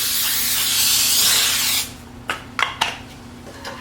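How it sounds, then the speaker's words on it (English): A steady spray of Pam baking spray onto a cookie sheet hisses for nearly two seconds, then stops, followed by a few light clicks and taps nearby. "I'm just going to take the Pam baking spray, spray my cookie sheet"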